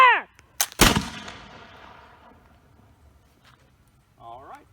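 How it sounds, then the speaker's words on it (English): A musket volley at an American reenactment: a shouted command, then one loud close blast that booms and slowly fades, with quiet after and a voice speaking again near the end. "take aim and then fire"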